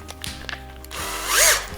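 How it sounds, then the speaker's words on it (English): Power drill fitted with a Velcro-backed polishing disc for buffing scratches from a GPS display, a short close whir that rises and swells in pitch toward the end after brief mechanical clicks. "and you put this little disc in the drill"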